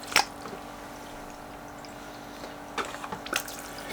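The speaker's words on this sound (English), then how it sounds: "Just need a little bit of water in this Paydirt." Water is poured onto dark Sidewinder paydirt sand in a sluice, with a brief splash at the start and a few soft wet splashes and trickles later over a low steady hum.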